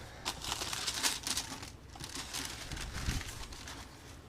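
LeBron and Kyrie sneakers are pulled from a box, giving soft, close crinkling and rustling of paper or packaging in irregular bursts, with no talk.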